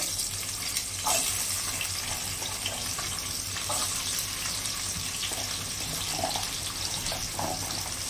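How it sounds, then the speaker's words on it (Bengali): Capsicum pieces fry in hot oil used for pakoras, a continuous bright sizzling hiss that stays close and even throughout without any voices. "পকোড়া ভাজার তেলের ভিতরে দিয়ে দিচ্ছি ক্যাপসিকাম।"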